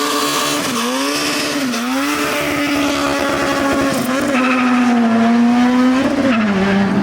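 A turbocharged K24-swapped Toyota MR2 making about 650 hp roars loud and sustained on a dyno, its steady engine tone dipping briefly between pulls and rising again, with no voices over it.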